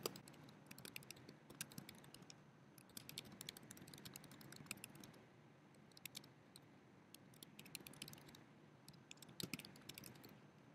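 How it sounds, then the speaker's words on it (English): Steady clicking of a computer keyboard as an email message is typed, fast irregular keystrokes in close bursts with short pauses, no talking. "Now that I have finished typing my message"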